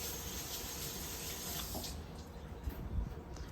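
Tap water runs steadily from a faucet into a sink while hands are rinsed after cooking, a continuous close hiss with slight splashing changes near the end.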